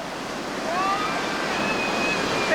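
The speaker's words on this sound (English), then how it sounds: "our first boat smashing and crashing on down through the reactionaries" Whitewater river rapids roar as a raft smashes downstream through rough water, a continuous rushing wash that swells slightly midway, loud and broadband with wind buffeting the microphone.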